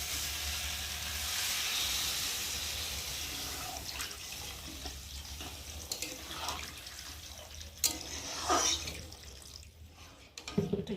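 Water pours steadily into a pan of sautéed vegetables and spices, a continuous hissing rush with faint sizzle and a few clinks near the end, heard alone.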